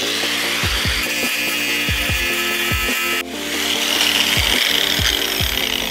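Yellow paint is stripped off a vintage metal chair to prepare a welding surface, making a loud, continuous harsh grinding and scraping with rhythmic strokes and a brief pause midway, close up with no voices.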